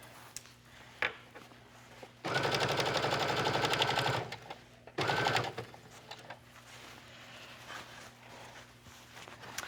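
A sewing machine stitches a dress's back neckline from one shoulder seam to the other, running in two loud, steady bursts of rapid needle chatter separated by a short pause, with quiet handling noise around them.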